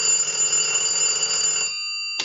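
An Automatic Electric three-slot payphone bell rings continuously with a bright metallic trill for about a second and a half, then stops; a brief burst sounds again at the end.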